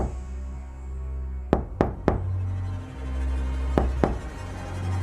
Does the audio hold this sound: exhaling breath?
no